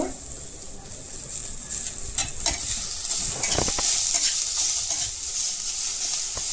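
Onion and coriander frying and being stirred in a pan for a spicy chicken rassa curry, with steady sizzling throughout and scraping stirs at intervals, especially around the middle, close and fairly loud.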